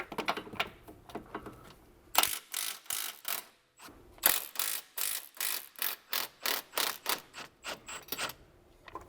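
A ratchet loosening subframe bolts on a BMW E90 M3, rapid rhythmic clicking in quick bursts, close and crisp, with short pauses between runs of pawl clicks.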